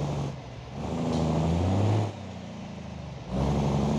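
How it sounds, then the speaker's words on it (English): Truck engine in the BeamNG.drive driving game, revving in surges with rising and falling tones, dropping to a lower idle between pulls, loud and close with no talk over it. "I give a 10 on the sounds for this truck."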